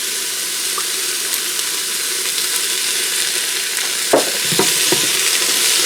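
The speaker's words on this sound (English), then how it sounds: "I'm going to go ahead and saute this for a few minutes" Onions, carrots and garlic sizzle steadily in oil in a pressure cooker, a continuous hiss with a few scraping stirs near the end and no talk.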